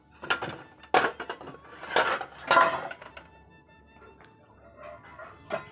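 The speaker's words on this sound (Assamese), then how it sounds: "মই আনি কেনে এতিয়া ধুনীয়াকৈ সামৰিম বাচনখিনি" Freshly washed dishes being put away, with plates and utensils clattering and clinking in several sharp bursts, then a quieter stretch and one last knock at the end.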